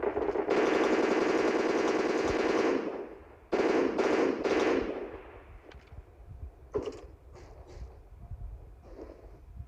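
Automatic rifle fire bursts in a shooter game as an enemy player is hit, with dense rapid volleys for a few seconds followed by scattered shorter shots and quieter background game sound.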